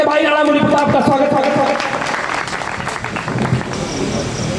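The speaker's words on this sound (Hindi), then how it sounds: "मैं चाहता हूँ पूरी तालियां पुरजोर बजा करके भाई राणा मुनि प्रताप का स्वागत।" Clapping from the audience at a Hindi poetry gathering, heard under a voice, strong at first and then easing to a thinner patter.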